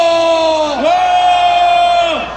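Crowd at a political rally letting out a collective roaring shout, two long, loud drawn-out cries with a strong voice sliding upward and then holding steady before fading.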